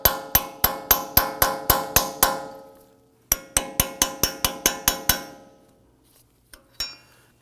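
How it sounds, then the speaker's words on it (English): Metal chisel work on the front wheel hub center cap of a 2015-2020 Ford F-150: two quick bursts of sharp, ringing metallic taps, about eight then seven, followed by a couple of isolated knocks. "You can sometimes use a chisel to pop in here."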